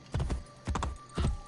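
Horse hooves clip-clop in an Assassin's Creed video game, three distinct paired hoofbeat groups landing at an even walking pace, close and clear with no talk.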